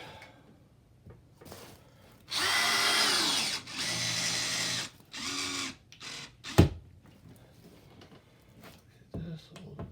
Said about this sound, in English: This is a screwdriver.